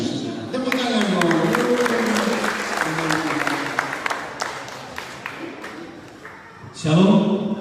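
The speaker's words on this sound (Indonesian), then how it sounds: "Tepuk tangan dong." Applause from a church audience during a sermon on faith, a crowd clapping at moderate loudness, mixed with a voice talking over it before it tapers off and speech resumes.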